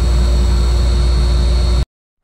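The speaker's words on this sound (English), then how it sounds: "you can hear the noise in the background is my dust collector" A workshop dust collector, connected to the shop machines, runs as a loud, steady, low roar with a constant whine, then cuts off abruptly into silence.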